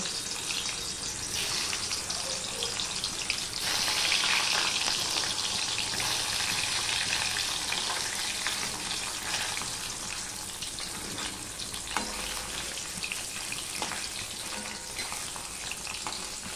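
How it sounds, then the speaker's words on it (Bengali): Paneer pieces lightly frying in hot oil in a pan over a lowered gas flame, a dense steady sizzle and crackle running throughout, close and even, with occasional small pops and no talk. "এবারে আমি পনিরগুলো হালকা করে ভেজে নেব।"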